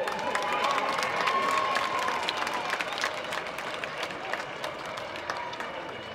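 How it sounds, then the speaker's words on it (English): A crowd applauds a football team after a junior championship final, steady clapping with some cheering at a moderate distance, tapering slightly toward the end. "round of applause for Shillelagh Coolboy"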